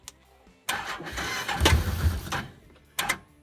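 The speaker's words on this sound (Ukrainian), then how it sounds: "Так, ми на паркінгу, пробуємо запуститися." A Can-Am Commander 1000 buggy cranks over in a parking lot, with a short burst, a longer roughly three-second churning engine run, and a brief final crank, all loud and close with no talk.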